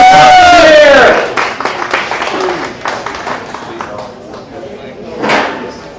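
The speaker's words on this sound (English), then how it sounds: "And we have a big round of applause for Ed Kellamson." Audience at a Bigfoot and UFO event applauds and cheers for a speaker, a loud crowd burst with shouts and a whistle at first, then scattered clapping and voices that fade and swell again.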